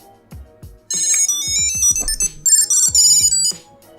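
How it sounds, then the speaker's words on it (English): A Bluetooth tracker card triggered by its find function rings with a bright, high-pitched electronic melody in short repeated bursts, close and clear over soft background knocks. "it says find right here, and then you'll hear the little ring."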